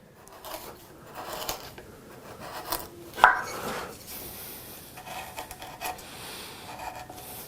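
A large sweep carving chisel cuts wood in short, scraping, slicing strokes, with several soft pushes and one sharper crisp cut near the middle, all close and fairly quiet.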